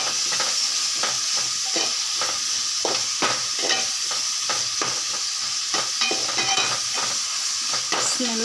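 Three chopped onions sizzle steadily in a pan for sambar, with a spatula scraping and knocking through the constant hiss.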